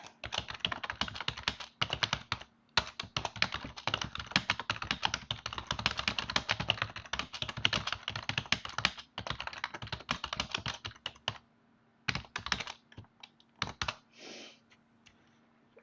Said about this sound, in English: let me just again type here on chat.